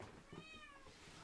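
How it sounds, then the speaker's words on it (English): A cat up in a roof gives a single drawn-out, wavering meow, faint and somewhat distant, against quiet background noise. "That's a cat is actually in the roof and shouting at me from there."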